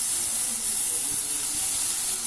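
Tomatoes hit a hot frying pan while cooking a bread masala, giving a steady, loud broadband sizzle and hiss that holds evenly for a couple of seconds with no voices.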